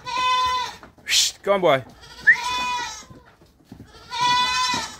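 Goats bleating on a farm as they head out to graze along the streets, several loud close calls breaking out between short spoken phrases from a man coaxing them along.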